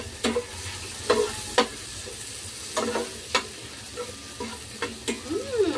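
Hotdogs frying in a pan for breakfast fried rice, with a steady low sizzle and repeated sharp clicks and scrapes from a spatula turning them, close by and without speech.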